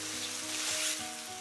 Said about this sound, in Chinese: 将另一面也给它煎至金黄